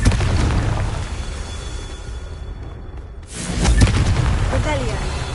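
A Confringo fire-blast spell explodes in Hogwarts Legacy, a loud booming burst that cuts through steady game noise and then rumbles on, while a voice calls out over the action.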